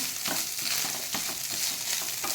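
Grated coconut roasts in a large ladle, giving a close, steady sizzle with soft rhythmic stirring scrapes repeating about every half second.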